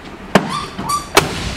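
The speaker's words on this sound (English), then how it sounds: "We'll shut this door." Two solid thuds as the door of a 1967 Dodge Coronet R/T is shut, the second slam coming a little under a second after the first, close and sharp against a quiet background.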